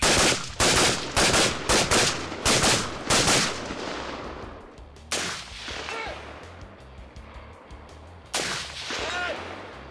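Daniel Defense M4 V9 rifle fired on a shooting-competition stage: a rapid string of loud, sharp shots in quick succession, then a few spaced single shots with echoing tails.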